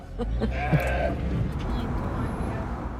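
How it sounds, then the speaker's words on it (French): A sheep bleats once nearby on a roadside stop in Oaxaca, a wavering cry over rumbling outdoor background noise. "Tu vois, même le mouton nous dit bonjour."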